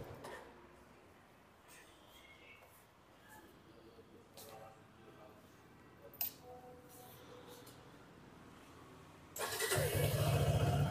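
Quiet room noise with a few faint clicks, then near the end a 2024 Suzuki Gixxer SF 250 motorcycle engine suddenly starts and settles into a loud, steady idle.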